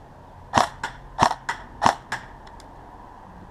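An airsoft HK416 rifle fires six sharp, snappy shots in an uneven semi-automatic rhythm, loud and close, with faint clicks after the last shot.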